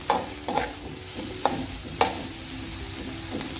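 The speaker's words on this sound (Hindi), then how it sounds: "ये बकाया करेलों वाला तेल है, इसी में मैंने प्याज को फ्राई कर लेना है।" Onions frying in oil left over from frying bitter gourds (karela), with a steady low sizzle broken by a few sharp spatula scrapes against the pan at uneven intervals.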